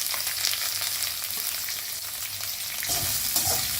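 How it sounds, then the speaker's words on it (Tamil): Onion, garlic, ginger, cumin and green chilli frying for dal fry, a dense close sizzle with scattered crackles and a few stirring scrapes toward the end, steady and fairly quiet, no voices. "வெங்காயம் ஒன்று நிறுத்தி வச்சுருந்தேன் இல்லையா பாதி, அதையும் போட்டு ஒரே ஒரு பச்சை மிளகா போட்டுருக்கேன்."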